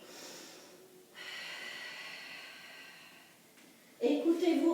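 A deep, steady inhale taken during a Pilates breathing exercise: a soft, airy rush of breath lasting a couple of seconds, followed by a brief, louder breathy burst at the end.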